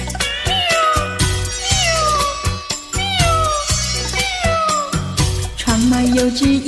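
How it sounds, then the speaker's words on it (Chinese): A cat meows repeatedly in drawn-out, wavering cries over continuous loud music, with no voices heard. "窗外有只野猫轻轻地叫啊"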